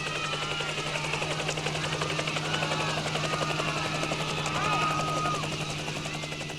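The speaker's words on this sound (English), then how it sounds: "helicopter descended to 50 feet above the crowd, and the thumping roar battered at her ears like pounding fists" A helicopter hovers low over a crowd, its rotor thumping in a steady, loud beat beneath a constant engine hum, close and sustained throughout.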